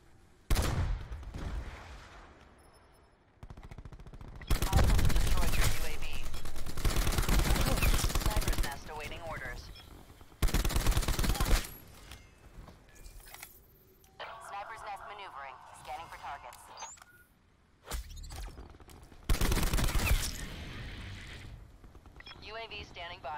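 Gunfire from Call of Duty, with long loud automatic bursts and shorter volleys among game announcer lines and speech.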